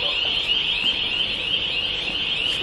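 A small alarm system sounds a steady, piercing high-pitched electronic tone close by, held without a break for the whole moment with faint background noise underneath.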